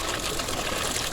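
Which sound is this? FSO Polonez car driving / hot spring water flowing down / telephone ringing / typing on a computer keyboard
hot spring water flowing down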